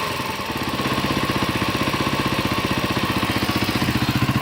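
A 1986 Kawasaki KLR motorcycle engine idling close by, with a steady, even chug of rapid regular pulses that holds constant throughout.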